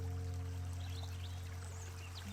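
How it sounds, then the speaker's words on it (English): A stream running through the grounds of Coombe Farm Studios flows in a steady, continuous rush, fairly close and unbroken, with faint bird chirps and a low hum in the background. "We have a stream that runs right through the place"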